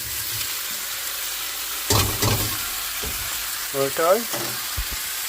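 Vegetables stir-fry in a hot pan with a continuous close sizzle and hiss, broken by a few sharp clatters and scrapes of stirring. A brief spoken word sits near the middle.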